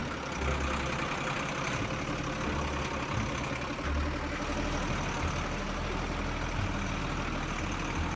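A truck in the Indian Bike Driving 3D game drives along, its engine giving a continuous heavy low rumble that pulses slightly, steady and fairly loud with no talk.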